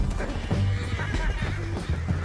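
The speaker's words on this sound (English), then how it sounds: "He's up on that horse, John." A horse whinnies in Red Dead Redemption 2 during a chaotic gameplay scene, its neigh mixed into a dense bed of game noise, hoofbeats and shouting voices at steady moderate loudness.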